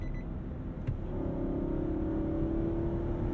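A 2022 Nissan Armada engine downshifting and accelerating on a highway, heard from the cabin as a steady low drone with a faint rising whine.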